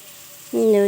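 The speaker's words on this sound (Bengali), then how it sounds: "তারপরে সেদ্ধ করে রাখা চাউমিনটা দিয়ে দিচ্ছি এখন" Boiled chowmein noodles drop into a hot pan and start frying. After a quiet half-second, a sudden loud sizzle breaks out and holds steady, close by.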